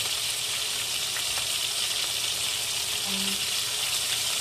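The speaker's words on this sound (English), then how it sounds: "once this chicken is done, I might throw some of the tomatoes in the pan, let them like cook out" Chicken fries in a pan with a steady, close, even sizzle that holds unchanged from start to finish, with no voices over it.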